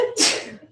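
A single sharp sneeze bursts out close to the microphone during a talk-based lesson, brief and loud, with a faint breath before it.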